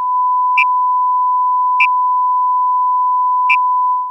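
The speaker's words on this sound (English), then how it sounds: "When those bursts of noise happened, did the tone seem to stop for the duration of the noise?" A steady pure tone runs throughout, broken by three brief bursts of noise at irregular intervals, loud and with no voice.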